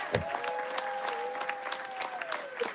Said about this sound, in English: I want everyone to applaud.